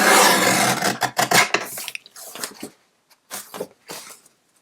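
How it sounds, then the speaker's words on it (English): Scissors trim the edge of a recycled Christmas card in short bursts of close, dry rasping snips, separated by brief pauses and near-silent gaps, with no speech. "I'm going to trim just a little bit off of this side as well"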